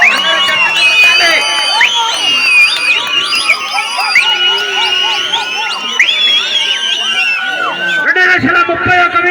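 A village auction crowd in Chakibanda Kuravapalli erupts in lively cheering, whoops and shouts, a loud continuous roar of many voices with clapping buried beneath, while an announcer keeps calling out over the noise.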